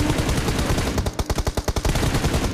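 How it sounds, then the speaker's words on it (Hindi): Rapid automatic gunfire in the PUBG Mobile battle royale game, a dense loud burst of rattling shots followed by distinct spaced cracks, close and alone with no talk. "यहाँ पर कवर फायर आता है, इसका टीममेट इसको कवर देता है बैक साइड से"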